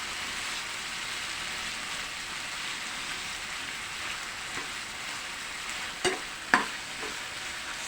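Pork being stirred with softened, crushed tomatoes in a pan: a steady soft sizzle and frying hiss throughout, with a few sharp scraping clacks of the spoon near the end.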